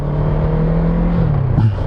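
A Kawasaki Z650RS parallel-twin motorcycle engine hums loudly and steadily on the move, its pitch sliding slightly before a quick throttle change near the end, close and unaccompanied by talk.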